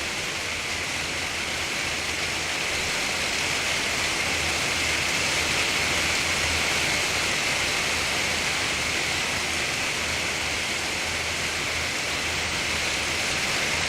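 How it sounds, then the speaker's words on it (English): Rain falls in the Two Point Hospital video game, a steady, dense hiss of downpour that holds evenly throughout at moderate loudness, with no voices over it. "I can only apologise about this rain,"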